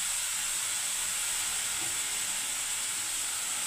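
Yogurt hitting a hot pan for Bengali doi curry gives a steady, loud sizzling hiss that runs through the whole moment without a break, with no voices over it.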